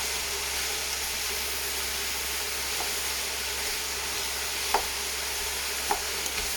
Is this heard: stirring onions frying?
yes